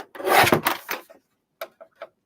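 Paper being trimmed on a paper trimmer for a card panel, a rasping slide of the blade followed by several short, quiet clicks near the end.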